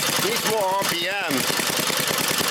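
A Briggs 5hp horizontal flat head engine idles with a fast, steady low chugging pulse, close and loud, while a voice speaks briefly over it.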